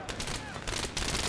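Rapid automatic gunfire in the Battlefield 3 multiplayer video game, a dense continuous burst of shots filling the moment at moderate level.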